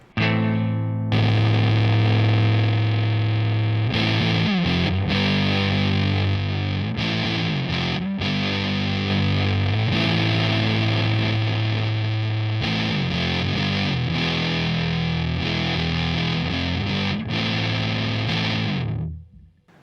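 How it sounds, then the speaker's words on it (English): Electric guitar played through an EHX Triangle Big Muff fuzz pedal, all knobs at noon with volume backed off, giving a thick, sustained distorted tone with chord changes throughout, loud and steady, no talking. "So if I go back to the Triangle Big Muff."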